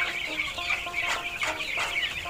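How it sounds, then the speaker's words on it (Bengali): Tiger breed chickens of mixed ages cluck and chatter together while being fed on the ground in free-range desi style, with overlapping close calls repeating several times in a lively flock. "আমার এখানে এই যে টাইগার মুরগি, বিভিন্ন বয়সের মুরগি আমি একত্রিত করে খাবার দিচ্ছি।"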